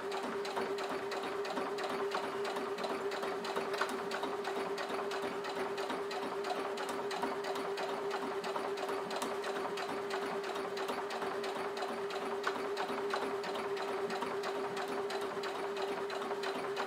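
A sewing machine stitches a visible topstitched seam on a DIY crossbody bag, running slowly and steadily with a fine rhythmic needle patter and a constant motor hum, close and uninterrupted with no talking.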